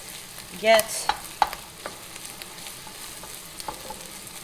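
Ground meat browning for Texas chili is stirred around a pot, with a few scraping clacks of the spoon and a soft sizzle underneath; a brief word is spoken.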